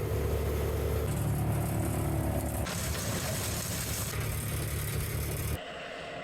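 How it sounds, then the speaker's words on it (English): Isuzu diesel engine on a Vermeer wood chipper in the woods runs loud and close, a steady throbbing drone that shifts tone a few times before settling into a lower idle near the end. "Okay, Isuzu diesel fired up."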